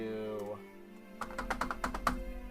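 Fingers tap rapidly on a computer keyboard while planning a Pokémon league's playoffs, a burst of clustered keystrokes starting partway through, close and fairly loud, after a stretch of speech.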